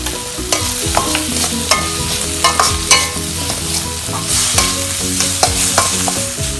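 Yam masala with salt being fried and stirred with a spatula, rhythmic metal scrapes against the pan over a constant sizzle, close and loud.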